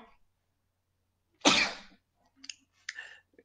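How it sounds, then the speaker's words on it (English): A single loud, close sneeze set off by dust in a beer-brewing workshop, followed by a couple of faint short voice sounds. "it's just sneezing because it's a dusty environment"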